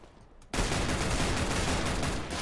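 Video game gunfire erupts suddenly after a quiet moment, a loud dense burst of rapid shots that keeps rattling for about two seconds.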